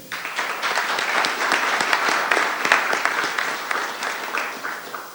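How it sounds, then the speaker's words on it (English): Audience applause at a soccer team announcement event, steady clapping from a sizable crowd that swells and holds for about five seconds, heard in a fairly reverberant space with no talking over it. "Let's have a round of applause for Michael Nelson, Amway President and CEO"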